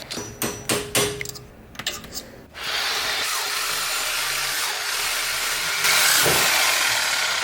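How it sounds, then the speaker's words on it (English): A framing hammer drives a punch during work on a classic Mini: about half a dozen sharp, close metallic strikes in quick succession, followed by a steady, loud whooshing machine noise. "go grab a punch and a hammer here"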